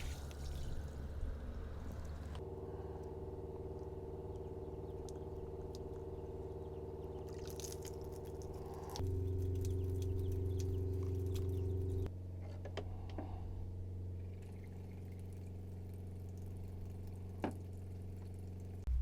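A camper's fresh-water system drains after bleach sanitizing, and water runs steadily out of it for nearly twenty seconds, with a low pump-like hum and a shifting tone as the flow changes.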